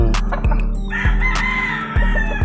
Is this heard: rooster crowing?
yes